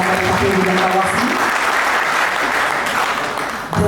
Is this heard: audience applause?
yes